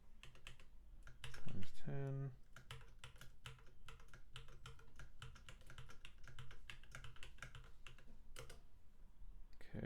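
Rapid clicking keystrokes on a computer keyboard while coding, steady bursts of close taps running throughout, with a brief spoken phrase over them early on.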